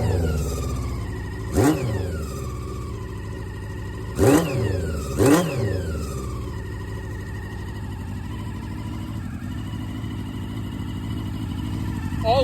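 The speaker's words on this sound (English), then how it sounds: "any proper Suzuki, you're gonna need to put your clutch in to start it." A 1988 Suzuki GSX-R 1100 motorcycle with a custom build idles steadily after a cold start, a loud, continuous engine rumble broken by three short throttle blips.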